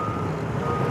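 A truck's reversing alarm beeps steadily and loudly at a construction site amid heavy traffic, with engine rumble underneath.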